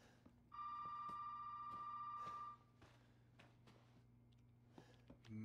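In the horror video game Resident Evil 7, a telephone rings with a loud tonal bell burst lasting about two seconds, followed by quieter knocks and shuffling, then the ring starts again at the end.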